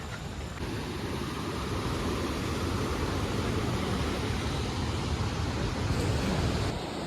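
A flooded river near Kalu Waterfall in the Sahyadri hills rushes with a steady, dense roar of water, loud and continuous throughout with no voices.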